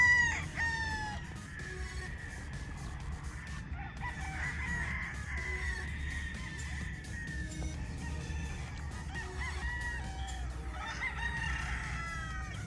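Gamefowl roosters on a game farm crowing repeatedly, some close and loud, others farther off, with clucking in between over a steady outdoor background.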